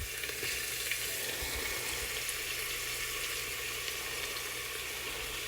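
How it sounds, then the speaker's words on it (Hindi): Onions fry in a pan with a soft, steady sizzle heard close, a low continuous hiss and a few faint clatters, and no one talks. "पहले मैं प्याज डाल देती हूँ अच्छे से"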